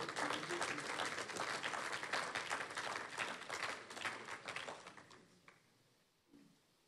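A church congregation applauding to acclaim God, a dense roomful of clapping that holds strong for several seconds, then thins out and dies away to near silence.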